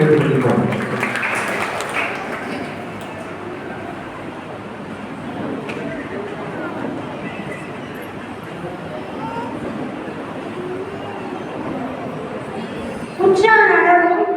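An audience at a celebration ceremony applauds in a broad, noisy burst that is loudest at the start and then settles into sustained clapping with chatter mixed in.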